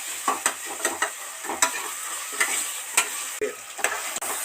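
Onions and tomatoes with a little rock salt fry for mutton gravy, a steady sizzle broken by repeated sharp scrapes of a spoon stirring the pan, close and alone without talk.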